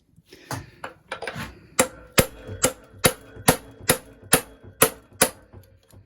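A big hammer strikes a metal part of a 1977 Puch Maxi S moped's E50 engine during removal, about a dozen sharp, ringing taps at a steady rhythm up close with quiet scraping between blows.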